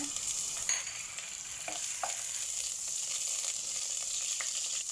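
Ginger sautés in oil in a pan with a steady, moderate sizzle throughout and a few light clicks of stirring on top, heard alone with no voices.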